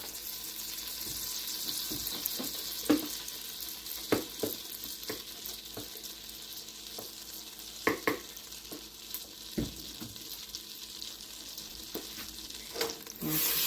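Butter melts and sizzles in a hot pan while a roux is made for a creamy tuna noodle sauce, a steady frying hiss broken by scattered clicks and stirring scrapes, with no talking.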